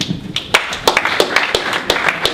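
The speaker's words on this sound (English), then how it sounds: "one more hearty round of applause for all of our 100-second pitch presenters" Audience clapping for pitch presenters at a holiday pitch competition, a sparse, uneven patter of individual claps from a small crowd, close and moderately loud.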